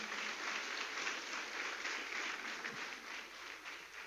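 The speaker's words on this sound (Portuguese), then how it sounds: "Dá um aplauso pela vida desse meu filhão." Sustained applause from a church congregation during an evening worship service, a dense steady wash of many hands clapping throughout, moderately distant with no talking over it.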